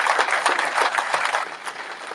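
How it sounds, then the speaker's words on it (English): Audience applause at a Swindon Town FC fans forum, a steady burst of clapping from a room of fans, fairly loud and close, tapering slightly toward the end with no talking over it. "Big round of applause for Vic Morgan."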